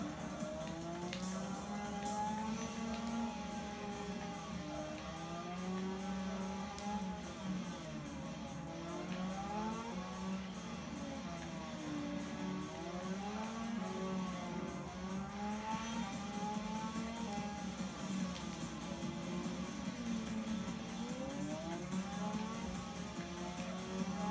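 Racing engines from the MotoGP motorcycle game on PlayStation 2 give a continuous, moderately loud synthetic whine. The pitch climbs and dips repeatedly as the bikes accelerate and shift, and no one talks.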